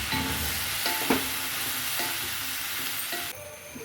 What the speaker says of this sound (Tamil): ஒரு வாட்டி நல்லா கலந்து விட்டுடலாங்க.